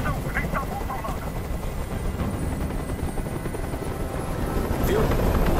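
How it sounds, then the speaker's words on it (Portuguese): A helicopter in the video game Detroit: Become Human drones steadily throughout with a dense, continuous low rumble, growing slightly louder toward the end. "Esse helicóptero tem que sair daqui agora"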